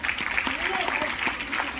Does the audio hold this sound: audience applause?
yes